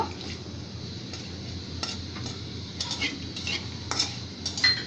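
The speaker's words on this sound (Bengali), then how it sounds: "কালো এলাচ এবং দারচিনি। আমি এটাকে একটু হালকা ভেজে নেব, একটু সুন্দর ফ্লেভার আসা পর্যন্ত।" Black cardamom, cinnamon, bay leaves and cardamom lightly frying in oil for a beef and potato dish, a soft steady sizzle under a few scattered metal spoon scrapes and pan taps.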